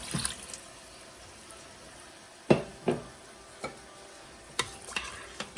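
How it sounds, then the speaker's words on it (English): A spoon scrapes and stirs a powder mixture in a pot, giving a few sharp clacks against the side amid soft, quiet shuffling, with no talk. "So just stir it up, make sure it is all coated and down in there"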